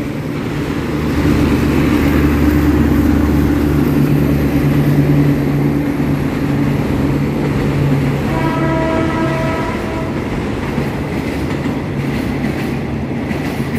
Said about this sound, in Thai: ขบวนรถพิเศษสินค้าที่985กรุงเทพสุไหงโกลกก็กำลังจะผ่านนะครับ โอ้โห มาด้วยอัลตร้อมเร่งเครื่องควันขโมงเสียงคำรามดุดันนะครับผม